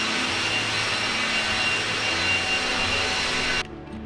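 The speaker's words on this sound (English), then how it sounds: "went to town just dry grinding the rest of the floor." Floor grinder dry grinding a concrete garage floor, a loud steady broadband roar with low motor rumble that runs continuously, then drops abruptly near the end, with no talk.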